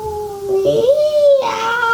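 A human voice imitates a cat's meow, a drawn-out plaintive wavering cry, loud and close, rising and falling in pitch.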